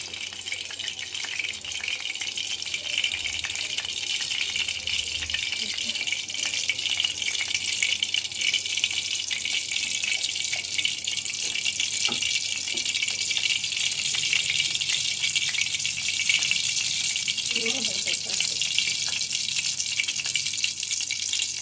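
Cinnamon, cloves, fennel and other whole spices crackle and sizzle in hot oil, a steady broadband hiss holding throughout with small pops, no voices.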